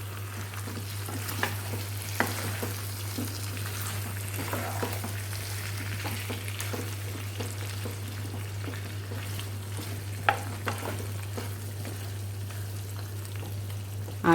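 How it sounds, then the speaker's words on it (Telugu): Spicy chicken fry cooking in a pan until its juices reduce, a steady close sizzle and bubbling with scattered light stirring taps over a constant low hum. "ఈ చికెన్లో ఉన్న నీరంతా దగ్గరికి వచ్చేసే వరకు ఉడికించుకోవాలన్నమాట."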